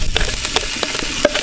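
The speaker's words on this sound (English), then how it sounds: "Sizzle them up a little bit" Sliced brown onions sizzle in hot oil in a camp oven on a homemade brick rocket stove with a steady crackle, punctuated by a few sharp clinks and scrapes of a utensil stirring.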